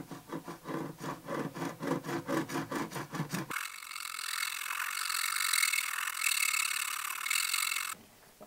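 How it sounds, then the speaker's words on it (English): A Stewart MacDonald Japanese fret saw cuts into a guitar nut, close and quiet, with rhythmic push-pull strokes at first, followed by a smoother continuous rasping scrape. "A super sharp saw like this one enables me to keep that cut line right in the middle of the nut"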